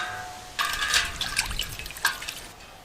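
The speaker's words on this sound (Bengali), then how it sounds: "এই কাঠিগুলো একটু জলে ভিজিয়ে রাখতে হবে" Wooden skewers are dropped into water to soak before making paneer tikka, with short close splashes and drips after a quiet start.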